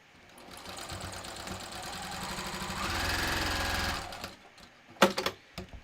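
A sewing machine top-stitches a wallet, its motor whirring in a rapid, rhythmic chatter that builds and speeds up, then stops, followed by a few sharp handling clicks close by.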